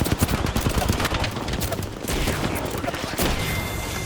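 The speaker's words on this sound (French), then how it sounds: "Ouais, mais frère, on tire dans tous les sens" Dense video game gunfire, rapid overlapping shots and bursts in a chaotic firefight, loud and continuous, with players talking over it.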